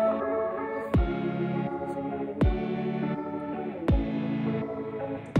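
Electronic pop/future bass intro played back on a Roland MC-101 groovebox: sustained layered synth chords with a deep pitched drop hit roughly every one and a half seconds, clear and upfront with no talking.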